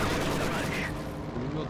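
Machine gun fire from the Company of Heroes 2 strategy game rattles in a short, dense burst under the game's background noise, loud and up close.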